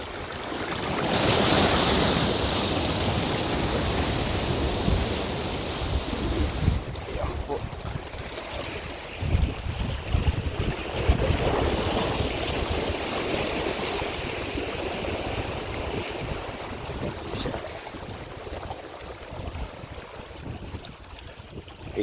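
Sea waves washing over a rocky shore at Real, Quezon, a steady rushing surf with wind noise, heard from close by on the rocks.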